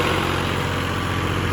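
A farm tractor engine running steadily during wheat sowing, a loud continuous low rumble with an even throbbing rhythm, close by and alone.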